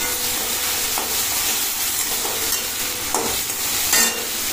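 Potatoes fry in a pan with a loud, steady sizzle, broken by occasional scraping stirs, with no voices.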